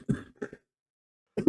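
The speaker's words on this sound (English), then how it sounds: "Excuse me for coughing there." A few short, dry coughs and throat-clearing sounds from one person, close and fairly loud, a pair of bursts, then a pause, then another.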